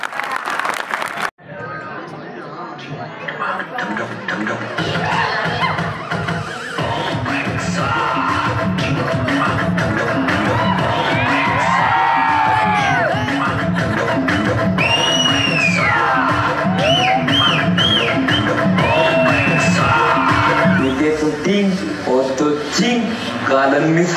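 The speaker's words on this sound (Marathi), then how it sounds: "जोरदार टाळ्या." A dense crowd claps loudly and steadily at a village children's variety show in Targaon, with cheering and shouted voices over music-like tones, after a sudden start about one and a half seconds in.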